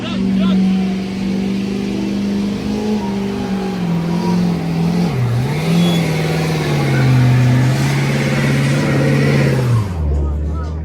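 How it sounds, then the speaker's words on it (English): At a rowdy truck festival, a truck engine revs loud and close as the driver steps on the gas, a rough, sustained roar that rises and dips in pitch before cutting off abruptly near the end. "I just stepped on the gas."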